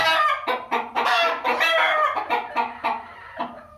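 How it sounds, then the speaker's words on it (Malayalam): A rooster at a poultry coop clucks in a run of short, loud, close calls that rise into a strained crowing call, then break back into clipped clucks. "ഈ പൂവൻ"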